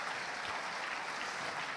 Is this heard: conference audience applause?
yes